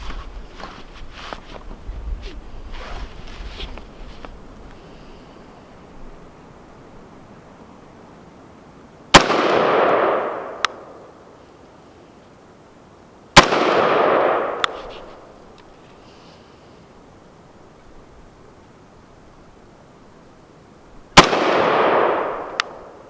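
An IWI X95 Tavor rifle fires at an outdoor range. Three sharp, loud reports come after a quiet stretch, each followed by a short echoing tail, with an uneven pause between them.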